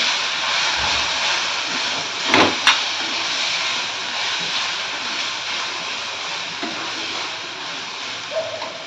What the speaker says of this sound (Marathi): आता हे तेलामध्ये छान परतून घ्यायचं आपल्याला